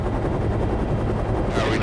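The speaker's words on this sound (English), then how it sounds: "And so when you hear it, you have no idea where the helicopter is." A helicopter echoing off canyon walls over 300 feet high, a loud, continuous thumping rotor roar that fills the space evenly with no clear direction, with faint voices mixed underneath.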